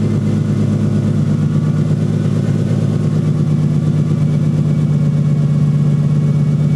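A 1JZ engine fitted in a Nissan 240SX idles steadily, with a loud, close, even low rumble and no voices over it.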